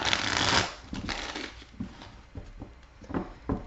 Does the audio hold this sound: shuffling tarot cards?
yes